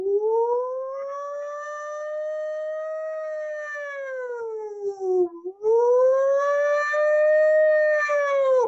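A person imitates a siren with a long, loud, wavering howl that rises, dips, breaks briefly and swells again, close and alone.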